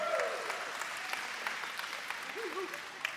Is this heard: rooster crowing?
no